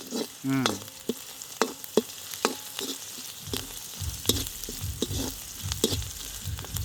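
Onions with salt sauté in a pan, a close sizzle punctuated by rhythmic spatula scrapes and taps against the metal, growing fuller and denser in the second half.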